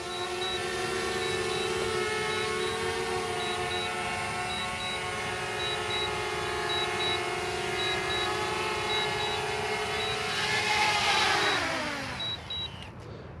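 A DJI Mavic Mini drone returns home and descends to land in grass, its steady high propeller whine and buzzing harmonics holding close and loud before the pitch drops as the motors spin down at touchdown.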